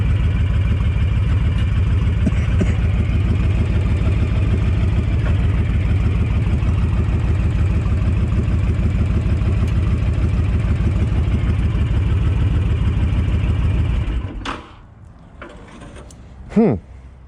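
A Honda VTX 1300 motorcycle engine runs at a steady, loud, throbbing idle for about fourteen seconds, then shuts off, leaving quiet with a few brief clicks and a short thump.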